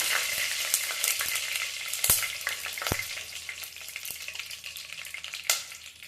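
Washed curry leaves spit and crackle in hot oil, a continuous close sizzle with sharp pops and occasional stirring clicks.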